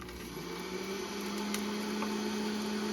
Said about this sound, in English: we're going to turn the Vitamix on. It's going to be very loud.